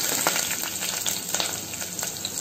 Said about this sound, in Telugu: ఐదారు జీడిపప్పులు వేస్తున్నానండి సో వీటిని కూడా వేడి చేశాక కాస్త వేగాక